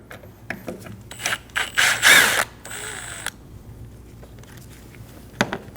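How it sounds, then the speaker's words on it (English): A T25 Torx bit removes screws behind the coolant reservoir of a 2012-2022 Volkswagen Passat, giving a few short ratcheting clicks and grinding turns followed by faint handling noises, close up with no speech. "Using a T25 bit, we're going to remove the two screws behind the coolant bottle."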